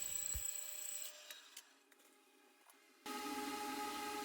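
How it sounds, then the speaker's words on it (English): A bandsaw cuts a hickory wedge for a hammer handle, with a loud, steady rasp starting abruptly after a quiet stretch and running to the end. "cut that slit on the bandsaw real quick,"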